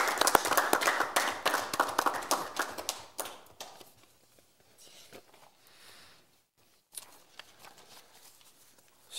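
Applause at a city council meeting in Saint-Raymond, brisk clapping from a modest group that fades out after a few seconds, followed by scattered faint taps and a few late claps.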